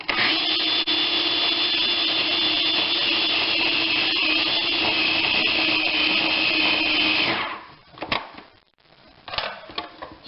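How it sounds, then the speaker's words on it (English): A food processor mixing rehydrated freeze-dried bread dough with yeast, a loud steady motor whir for about seven seconds, then it stops, followed by a few quieter clunks and scraping handling sounds. "we'll have the food processor do the mixing for me"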